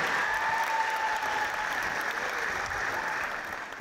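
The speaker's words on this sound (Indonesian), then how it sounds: "Mohon berikan tepuk tangan untuk Ustadz Dasat Latif." Audience applause welcoming a religious speaker, a steady, moderately loud wash of clapping that fades slightly toward the end.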